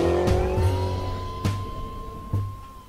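A Ford Mustang muscle car runs loud and close with a sustained, steady whine, broken by three sharp bursts of noise.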